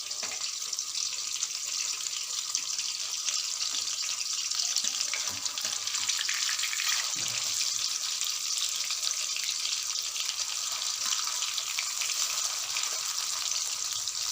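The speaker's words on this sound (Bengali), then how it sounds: "এবার চিকেনগুলোকে আমি উল্টে দিচ্ছি," Chilli chicken pieces fry in a pan while they are turned, giving a steady, bright sizzle that runs unbroken and fairly loud throughout, with no talking.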